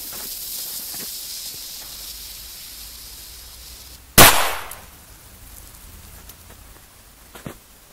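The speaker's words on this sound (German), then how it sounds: "Lauter Böller" A single sharp, loud New Year's Eve firecracker bang cracks out over a steady hiss, with a fainter pop near the end.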